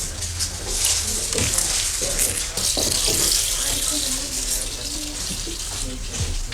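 Running water rinses a stain from an engraved book plate, a steady splashing flow from a tap with small clinks and shifting swishes, fairly close and continuous.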